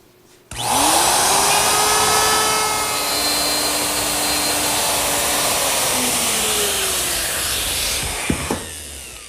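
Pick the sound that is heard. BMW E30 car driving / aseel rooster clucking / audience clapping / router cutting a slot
router cutting a slot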